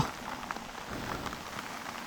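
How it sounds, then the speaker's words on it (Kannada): Sudden heavy rain pours down in a dense, steady hiss of drops striking surfaces, close and continuous throughout. "ಇದ್ದಕ್ಕಿದ್ದಂಗೆ ಮಳೆ ಹೆವಿ ಜೋರಾಗ್ಬಿಡ್ತು."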